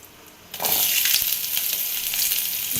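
Mustard seeds drop into hot oil in a pan for a Salem mango curry, setting off a sudden bright, crackling sizzle that stays loud and steady, with scattered sharp pops.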